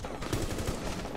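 Gunfire in Rainbow Six Siege, a quick burst of several rapid shots fired close together, fairly loud over a dense background.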